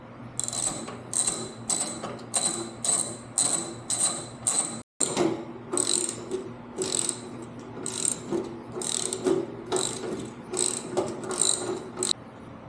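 A ratchet clicks in rapid bursts while loosening the rear shock main bolt on a Harley Street Bob, with a short pause partway through before the close, repeated cranking resumes; no one talks.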